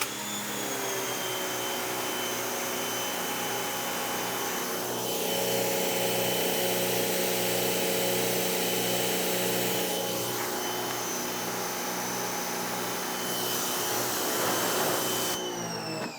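A wall-mounted pressure washer with a retractable hose reel sprays through a 2.5, 25-degree nozzle, a loud steady hissing roar with a constant motor hum that surges louder midway, then settles back near the end.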